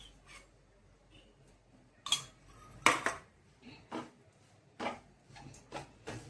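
Horse gram flour roasting in ghee in a pan for ladoos, heard as a series of sharp scraping and clinking strokes of a spoon against the pan, a few louder knocks spaced irregularly over a quiet background, with no talking.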